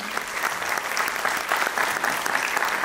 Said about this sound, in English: A big applause for her.